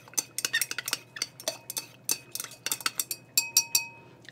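A utensil stirs lye solution in a container, producing rapid, close clinks and scrapes in an irregular rhythm, with no voices.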